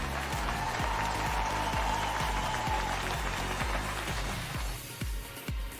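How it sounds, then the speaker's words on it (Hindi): Sustained applause from an audience with a steady rhythmic beat running underneath, thinning out toward the end. "आप जहां भी हैं, इनके लिए जोरदार तालियां बजाइए।"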